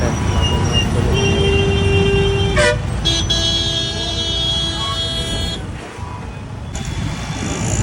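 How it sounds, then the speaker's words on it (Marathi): Busy road traffic in Wagholi with several car horns tooting, one long steady honk followed by overlapping blasts, over a constant engine rumble close by. "वाघोलीमध्ये ट्रॅफिकच असतो"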